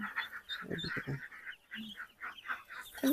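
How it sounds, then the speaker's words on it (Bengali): A flock of farm-raised ducks and ducklings rushes in to feed, with busy overlapping quacks and chatter at moderate distance and a few low scuffling sounds. "হাঁসগুলো কিন্তু খাওয়ার জন্য ছুটে আসতেছে"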